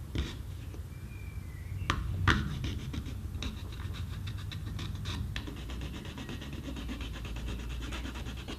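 Filing on a plastic guitar part makes a faint, steady rasping scrape with a few sharper clicks and knocks, close up and quiet, with no talking.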